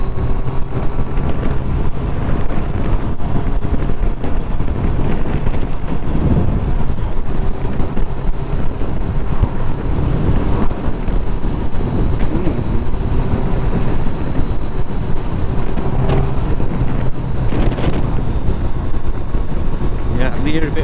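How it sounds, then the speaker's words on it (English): Wind buffets a GoPro Hero 5 Black microphone during an outdoor ride, a steady loud rumbling roar that fills the whole stretch with constant gusting noise. "I'm near a bit of wind there, but hopefully it's not too bad"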